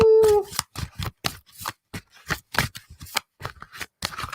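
Oracle cards being shuffled by hand: a run of crisp, papery riffles and slaps in an irregular rhythm, close and fairly loud, with a brief tone at the very start and no talking.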